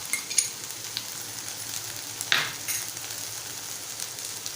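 Soft sizzling of Malvani cluster bean bhaji with crushed peanuts and fresh grated coconut being stirred in a pan, a brief scrape of the spoon partway through, quiet and steady.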